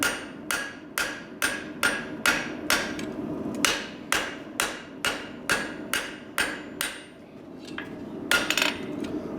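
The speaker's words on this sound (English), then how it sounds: "give it a couple of taps from the back side just to cinch those surfaces" Steady, evenly spaced metallic taps as a hammer spreads the head of a heated rivet, about twenty sharp ringing strikes close up, with no voices.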